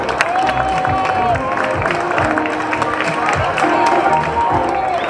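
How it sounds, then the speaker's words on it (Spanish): Spectators applaud and cheer runners crossing the finish line at the Volta a Peu a L'Eliana road race, steady crowd clapping throughout under a loud announcer's voice. "Minuto para aplaudir, por favor"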